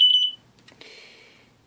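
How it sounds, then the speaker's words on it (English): A photoelectric smoke detector, set off by lingering smoke from an iron, lets out a shrill electronic beep, then falls quiet before a fainter sustained tone returns and a final beep starts. "once the alarm started going off yet again"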